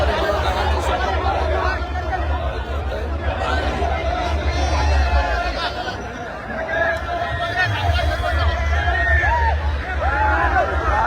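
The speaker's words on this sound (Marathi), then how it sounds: "चारही रस्त्याला तुफान लोकांची गर्दी" A large crowd at a roadside welcome in Narayangaon, India, with a loud, continuous hubbub of many voices chattering close by and occasional laughter rising above the babble.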